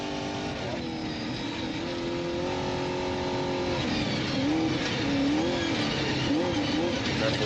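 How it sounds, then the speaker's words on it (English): An off-road trophy truck engine at the SCORE Baja 400 race roars steadily, its pitch rising and falling as it revs, heard loud and close throughout. "Definitely like the sound of the trophy truck."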